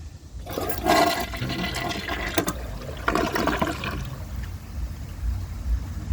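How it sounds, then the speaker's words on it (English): A 2022 Mansfield Summit toilet with a 10-inch rough-in flushes with a loud close rush of water that surges, then drains in gurgling waves before settling into a quieter refill trickle. "I'm gonna give this another flush once the tank refills."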